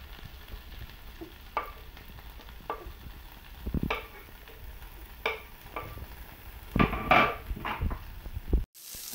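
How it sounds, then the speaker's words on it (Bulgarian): Broccoli hits a pan of melted butter and fries, with soft sizzling under scattered clacks and scrapes of a utensil stirring, ending in a louder burst of clatter. "Сега слагаме броколито в тигана."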